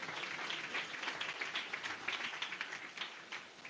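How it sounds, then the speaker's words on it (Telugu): A church congregation at a pastor's sermon claps together: dense, steady crowd applause that is fairly distant and soft, running throughout without talk. "చప్పట్లు కొట్టాలి గట్టిగా."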